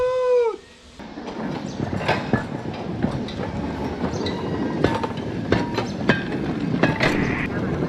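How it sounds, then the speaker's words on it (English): Cuban steam train number 1239 pulling away, a short high whistle blast at the start, then clanking, hissing and rhythmic wheel clatter with squeals that build steadily and stay close and loud. "this train is moving out."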